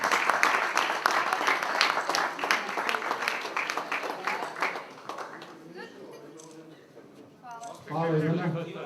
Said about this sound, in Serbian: Ajmo još jedan veliki aplauz za Ivanu Maksimović.